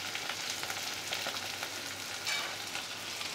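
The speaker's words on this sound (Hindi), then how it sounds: "1 मिनट अच्छे से प्याज के साथ भूनेंगे।" Chopped tomato and onion sizzle steadily in a hot pan, a dense, even frying hiss close up that runs the whole time without any talk.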